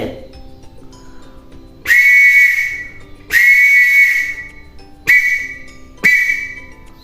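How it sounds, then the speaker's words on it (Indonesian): A Scout Morse code whistle sounds letters as sharp, shrill blasts: two long ones followed by two shorter ones, each separated by silence. "tadi adalah bunyi peluit Morse untuk alfabet atau huruf"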